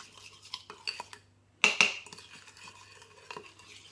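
Chalk paint is stirred in a bowl with a utensil, giving soft scraping swirls and light clinks against the sides, broken by one sharper clatter partway through, close and quiet.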